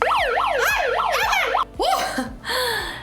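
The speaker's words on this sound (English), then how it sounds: "I've got the cool siren." A toy's electronic siren wails in rapid up-and-down sweeps, then shifts to a couple of different siren tones, loud and close.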